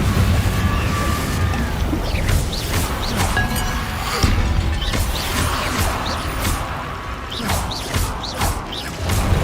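Spell blasts from the Confringo curse in the video game Hogwarts Legacy: a loud run of bursts, pops and crashing impacts, with sharp whooshing flares repeating over a dense rumbling bed.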